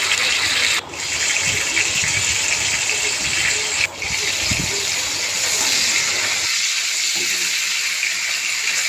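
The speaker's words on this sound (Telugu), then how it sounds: "ఉల్లిపాయ పచ్చిమిర్చి టమాటా ముక్కలు కూడా వేసి వీటిని కూడా కొంచెం ఫ్రై చేసుకోవాలి" Onion, green chili and tomato pieces frying in a pan for mutton biryani: a loud, steady sizzle and hiss with faint stirring scrapes, the sizzle easing slightly near the end.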